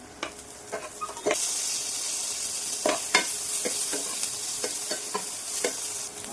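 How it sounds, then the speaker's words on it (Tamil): Onion, garlic and fennel seeds sautéing in a pan for a buttermilk curry, with a steady close sizzle and repeated scraping stirs of a spoon against the pan, no voices. "இப்போ வெங்காயத்தை போட்டு இதெல்லாம் வதங்கிடுச்சு. இப்போ சோம்பு போட்டாச்சு."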